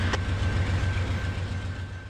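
A freight train approaches on an old Seaboard rail line in Central Florida, with a steady low diesel rumble and droning engine tone that hold throughout, moderately close and with no talk.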